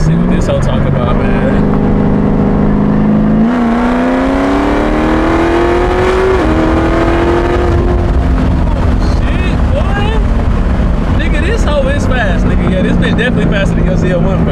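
A Corvette Z06 engine roars as the car accelerates hard, its pitch climbing through a gear change and then settling. The sound is loud and close, with wind buffeting and voices talking over it.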